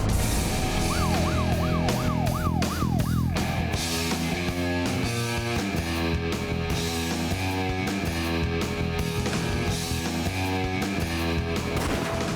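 An emergency vehicle siren wails loudly on a road, first in a rapid rising-and-falling yelp, then in a steady repeating two-tone pattern, close and dominant over traffic and background music.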